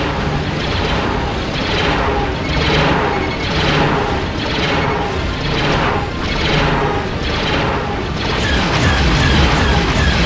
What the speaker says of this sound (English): I've got a starship firing at me.